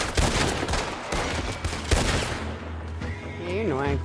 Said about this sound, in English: Do I just shoot him? I'll just shoot him.